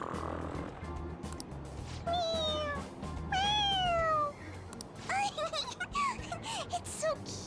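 Several cat meows from Persona 5 Royal, two long drawn-out calls followed by a quick run of shorter mews, loud and close over soft game background music, with some talking underneath.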